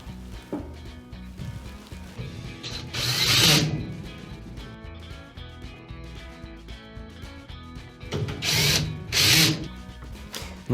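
A power drill drives the 2 1/4-inch screws back into the top panel of a Whirlpool washer, its motor whirring in two loud bursts around short pauses, with lower mechanical rattling in between and no talking.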